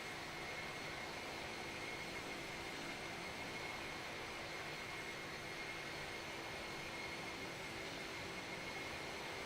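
Steady, even roar of airliner engines from an IniBuilds A306 Freighter in a flight simulator, continuous broadband drone with a faint high whine throughout, no voices.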